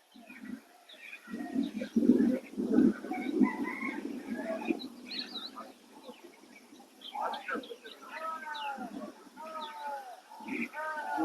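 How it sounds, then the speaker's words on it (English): Crows call outdoors among smaller birds being fed biscuits, with scattered harsh cries and chirps near and far over a soft, steady background. "That's one of the crows."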